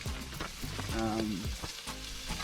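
An egg frying in a pan beside pastrami for a bagel sandwich, a soft steady sizzle running underneath a voice.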